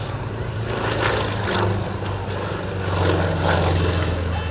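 A Yak-55 propeller aerobatic aircraft flies overhead at an airshow, its engine droning loudly and continuously with gentle swells as it passes at moderate distance.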